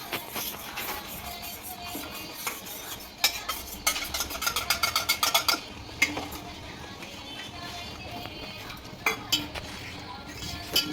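A spoon stirs custard powder into milk in a metal pot or bowl for rasmalai, making quiet rhythmic scraping and clinking of metal against metal, with a quick burst of rapid taps in the middle.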